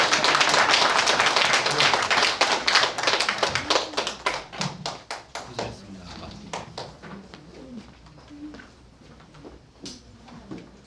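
Applause from an audience at a Korean lecture, loud and dense at first, then thinning into scattered individual claps that fade out over about ten seconds, with some voices underneath.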